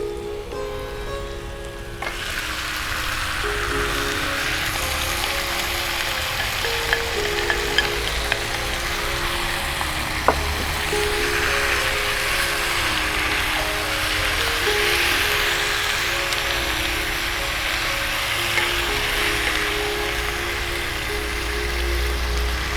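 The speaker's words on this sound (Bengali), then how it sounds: "পেঁয়াজটা ভাজা ভাজা হয়ে গেছে, এবার ম্যারিনেট করা মাংসটা দিয়ে দিচ্ছি।" Marinated chicken pieces added to browned onions in a hot pan, a steady loud sizzle and crackle of frying that runs throughout, with occasional stirring clinks and no talk.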